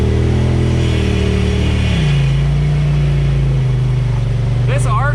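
An Argo off-road vehicle's engine revs loud and near on a muddy trail during a mud run, holding a steady drone that drops in pitch partway through, with a brief faint voice near the end.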